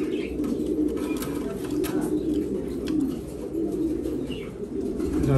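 Racing pigeons coo continuously in a loft, a dense, close layer of low throaty calls with faint chirps above and no talk.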